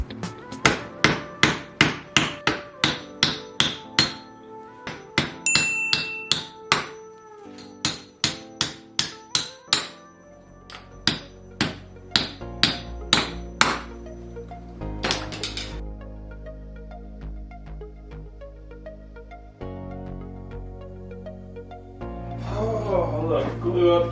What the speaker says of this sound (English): I'm replugging the screw hole with a dowel